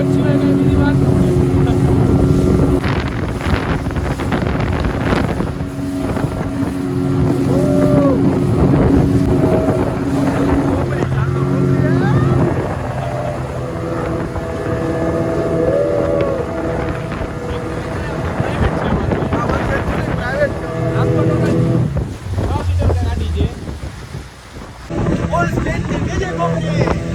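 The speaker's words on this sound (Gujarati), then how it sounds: "ફાઇનલી અમે બોટની રાઈડ કરીને" A tourist boat ride at Dwarka, with a steady engine drone and gusting wind buffeting the microphone throughout, while people talk and call out over it.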